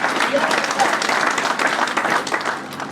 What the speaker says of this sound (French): Applaudissez encore la jeunesse.